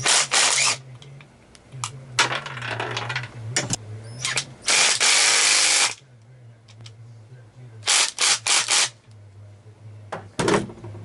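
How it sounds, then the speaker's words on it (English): A ratchet removes the 10 mm nut from the windshield wiper arm of a Jeep Wrangler YJ, sending out loud, close bursts of rapid clicking separated by pauses with a low hum beneath. "So you take your nut off. It's a 10 millimeter."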